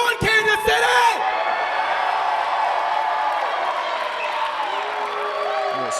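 A live wrestling crowd in Kansas City, around 400 fans, roars and cheers continuously, with a few sharp shouts at the start before a steady sustained din.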